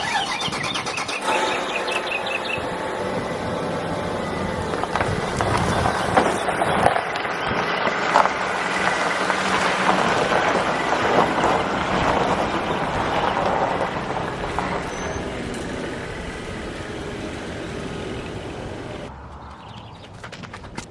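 Lexus LS400 engine idling and pulling away under its own power, a steady close rumble with broadband road and mechanical noise that eases off near the end, with faint bird chirps early on.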